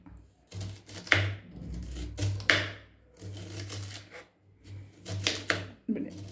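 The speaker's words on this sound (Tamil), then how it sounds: "முட்டைக்கோஸ் நம்ம ஒரு இந்த மாதிரி கால்பாக கட் பண்ணி எடுத்துட்டு இதை இந்த மாதிரி நீளமாக வர்றதுக்காக இப்படி கட் பண்ணிக்கிறோம்" A knife slicing quartered cabbage into long, thin strips for egg paneer fried rice, with repeated crisp chopping strokes on a board in several bursts, heard under a person talking throughout.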